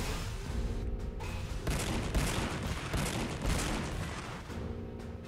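Rapid bursts of gunfire and booming weapon fire in the Warhammer 40k Sanctus Reach strategy game, dense and continuous, with heavy reports layered over a rumbling battlefield backdrop.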